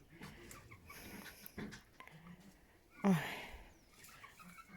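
Chickens in a village farmyard, with a brief louder cluck or squawk standing out over quieter background clucking and yard noise.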